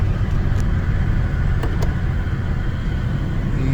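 A VW Golf V petrol engine droning steadily at full throttle in fourth gear with no power, a loud, continuous in-car rumble that stays flat throughout.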